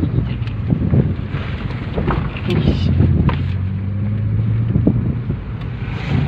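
A Nissan Grand Livina engine revs steadily after a tune-up, a continuous rumbling drone with some wind buffeting on the microphone and a few faint knocks.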